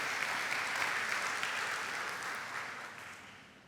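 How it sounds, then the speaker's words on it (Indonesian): A church congregation applauds the mothers during a Sunday service at a Methodist church in Jakarta, with steady, dense clapping from a large group that fades slightly toward the end. "Mari kita beri tepuk tangan untuk mama-mama ya."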